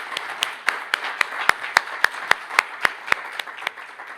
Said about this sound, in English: ladies and gentlemen, our candidates this evening, let's give them a round of applause